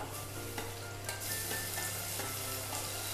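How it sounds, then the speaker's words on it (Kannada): Onions and chopped tomato fry in a pan for a village-style mushroom curry, a faint continuous sizzle with occasional soft stirring scrapes and a low steady hum beneath. "ಟೊಮೆಟೊನ್ನು ಮೆತ್ತಗಾಗೋ ತನಕ ಫ್ರೈ ಮಾಡಿಕೊಂಡ್ರೆ ಆಯಿತು"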